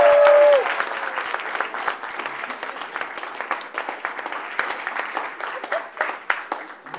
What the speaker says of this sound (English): Audience, let's give our volunteers a big round of applause.